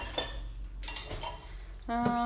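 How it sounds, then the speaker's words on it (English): Dishes, pots and cutlery clink and rattle in a kitchen sink as they are rinsed, with running water hissing throughout and a bright sustained tone rising near the end. "Just kind of give everything a little bit of rinse, get everything chunky off"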